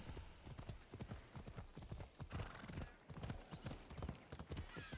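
Horse hooves clip-clopping at a steady gallop in the video game Assassin's Creed Odyssey, a dense rapid rhythm of thuds with an occasional whinny, continuous and close.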